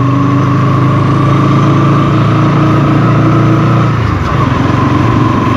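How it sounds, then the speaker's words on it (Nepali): A new Bajaj Pulsar NS200 BS7 motorcycle on a test ride, its engine droning loud and steady with a dip in pitch near the end, mixed with wind rush. "नयाँ बाइक गाइस अहिले आएको न्यू NS200 BS7"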